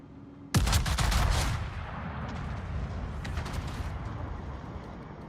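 Warship gunfire from a Shikishima battleship in World of Warships: a sudden loud booming salvo that rolls into a long rumbling decay, followed by fainter distant thuds and crackle.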